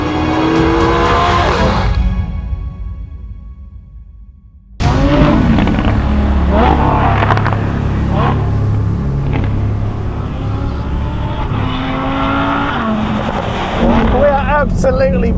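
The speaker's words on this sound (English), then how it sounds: "So when you're spinning the tyres on dirt, it just sounds absolutely amazing." A Lamborghini Huracan Sterrato engine roars and revs as tyres spin and scrabble on dirt, with a brief lull before the engine surges back in close up.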